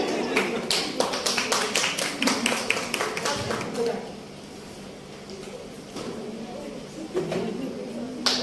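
Audience applause at an art event breaks out as a burst of quick, dense clapping for about four seconds, then dies away while a voice talks; a shorter patter of claps returns near the end.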